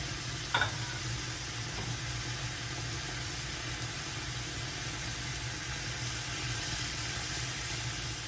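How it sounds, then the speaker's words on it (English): Steady frying sizzle of ground beef browning with a sauce simmering in a pot, plus a brief scrape of a spoon stirring early on, continuous and moderately close, with no talk. "I'm going to stir it a little bit because I don't want it to get thick on the bottom"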